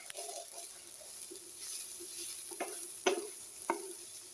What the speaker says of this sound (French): Donc on fait revenir tranquillement nos champignons